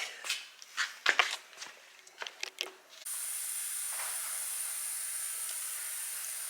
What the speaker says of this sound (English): So I've sprayed this down with brake clean.